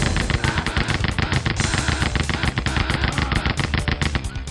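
Rapid, dense automatic gunfire from an MP40 submachine gun in the shooter game Rise of the Triad, a loud continuous spray of shots through the whole stretch with no talking.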